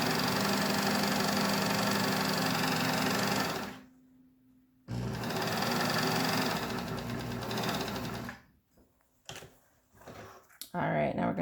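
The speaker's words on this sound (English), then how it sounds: "1/4 inch selvage, sew your straight stitch." Sewing machine running a straight stitch on a two-layer cotton mask, a steady close mechanical whir that stops briefly, resumes, then halts with a few clicks and handling noises.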